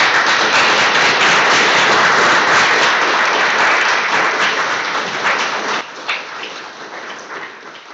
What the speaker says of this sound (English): can we have a round of applause for our fantastic AV support as well?